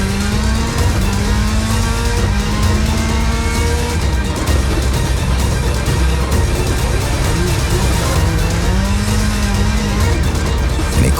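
A Subaru rally car racing flat out in Global Rallycross at Atlantic City roars loudly and continuously, its engine note rising and falling through gear changes with no pause for the whole stretch.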